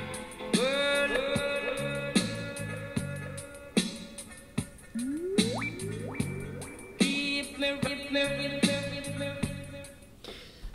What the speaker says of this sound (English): you're going to hear something that's a little bit more sweepy. It's going to go through a range of different pitches.